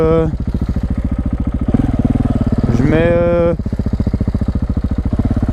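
A 2015 KTM 690 SMC R single-cylinder motorcycle engine idles loud and close with a steady rapid pulsing thump, while someone talks over it.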